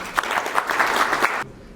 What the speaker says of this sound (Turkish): sizlerden de bu arkadaşlarımıza bir alkış istiyorum